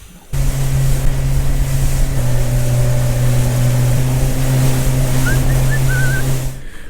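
Fishing boat motoring out over the waves, its engine starting abruptly and then droning loud and steady with a deep hum, water rushing beneath, before cutting off at the end.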